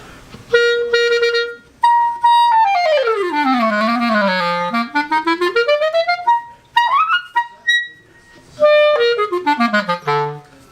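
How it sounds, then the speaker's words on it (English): A clarinet plays a melodic phrase alone, with sliding runs, quick repeated notes and a few held tones, close and clear. "So this one sounds like this, a bit like a clarinet to be fair"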